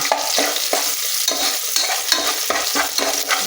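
Onions being stirred and fried in a pan for biryani, a continuous close sizzle broken by regular scraping strokes of a spoon, with no voices.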